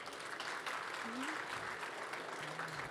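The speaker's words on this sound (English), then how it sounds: "So a round of applause to all the presenters today." An audience at a CES 2023 startup competition finals claps in a dense, steady burst of applause for the presenters, filling the room at moderate volume, with a faint voice briefly under it.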